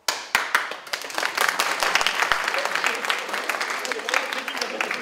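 Audience at a magic show in the Jura applauding, starting with a few sharp individual claps that swell into sustained, fairly close clapping from a small crowd, with talk mixed in.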